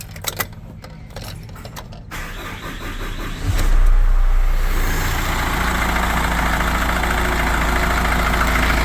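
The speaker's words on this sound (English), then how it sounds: "I'm going to let it run for a bit to get the engine warmed up" An Isuzu NPR truck engine turns over and settles into a steady, loud, rumbling idle while warming up, continuing evenly to the end.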